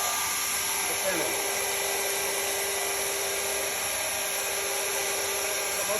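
A Shaper Origin handheld router makes a finishing pass on a wooden tenon, giving off a steady, high, whining motor drone with a tonal hum that runs unbroken and fairly loud throughout.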